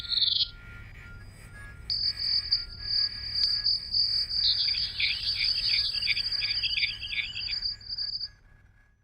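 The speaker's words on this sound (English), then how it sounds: "what you would hear if you go outside at night, and there are frogs and crickets and cicadas" A simulated night chorus of frogs, crickets and cicadas: a steady, high-pitched insect trill runs through the clip, joined by warbling chirps that pulse in rapid rhythm, fairly close, with no voices.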